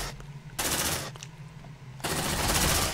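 Squad gunfire in the video game Aliens: Dark Descent, with loud, dense bursts of sustained automatic fire that break off briefly and then resume at full intensity.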